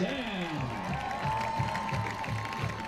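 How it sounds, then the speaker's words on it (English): Crowd at a high school football game between Father Ryan and MBA, with a sustained roar of cheering and clapping from the stands as the home side nears the goal line, voices mixed into the din. "you can hear a lot of crowd support out there, very excited to get the first points on the board in this game"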